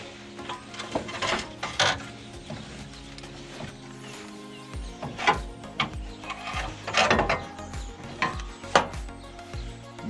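An axle shaft is wiggled out of a Chevrolet Trailblazer hub, making a close series of metallic clicks, clunks and ratcheting knocks at an uneven rhythm, with no talking.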